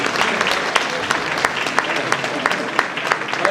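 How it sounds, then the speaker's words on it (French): Audience at a concert gathering claps steadily for a choir group, a dense, even round of applause with some crowd murmur underneath. "on vous applaudit avant que vous ne chantiez"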